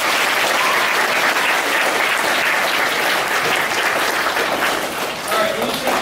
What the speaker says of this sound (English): So everybody give her another round of applause.